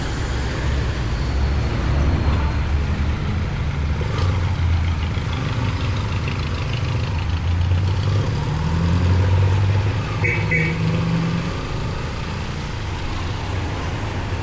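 A Hybrid DNA RFX concept project motorcycle with a hyper clutch idles in slow traffic, its temperature warning light on; a steady, smooth low engine hum runs throughout, blended with surrounding roadway noise and no talk.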